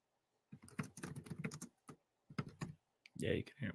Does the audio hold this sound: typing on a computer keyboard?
yes